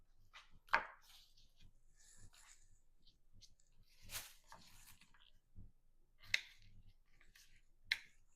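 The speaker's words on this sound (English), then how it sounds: "I'm also gonna do the okra and just wash those and cut those up as well." Okra is sliced with a sharp paring knife on a board, several quiet sharp cuts spaced a second or two apart against near silence.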